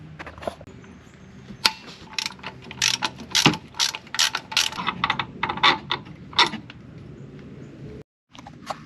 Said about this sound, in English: I'm going to start by taking off the front bolt for the motor mount